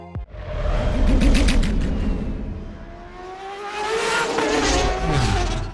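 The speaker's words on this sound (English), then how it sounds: "leaves the rough motors of the pods the chance to take over the sound" Roaring Star Wars prequel podracer engines surge and whoosh past, rising and falling in pitch as fast vehicles close in and speed away, loud and continuous.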